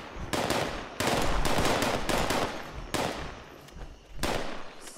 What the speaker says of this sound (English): What are y'all shooting at?